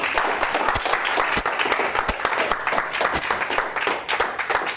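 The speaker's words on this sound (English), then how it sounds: "So let's give the storm of applause to our speakers." An audience at a mathematics lecture gives the speakers a round of applause: lively, crowded clapping with sharp individual claps standing out, sustained and fairly loud throughout.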